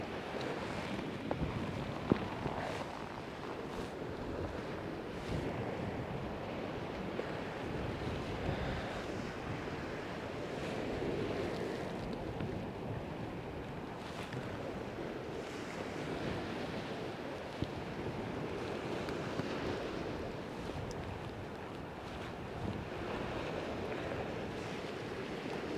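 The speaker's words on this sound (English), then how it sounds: "That wind's just starting to cut round a little bit more." Wind gusts across the shore at a coastal fishing spot, roughly buffeting the microphone, with a low, constant rush of surf under it and no talking.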